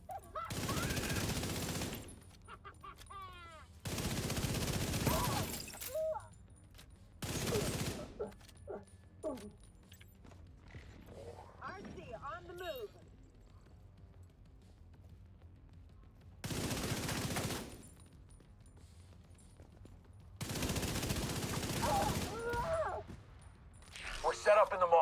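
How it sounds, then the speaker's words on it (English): Gunfire in a video game, several loud bursts of rapid automatic shooting separated by quieter stretches, with someone talking in between. "That was some shooting."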